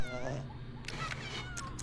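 A cat meows in The Sims 2, a few drawn-out, wavering game cries over a steady low background hum.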